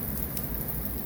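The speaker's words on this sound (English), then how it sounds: "it's pouring down rain out there." Steady heavy rain hisses down on the Appalachian Trail in a dense, even wash, with scattered drops pattering on a nearby surface.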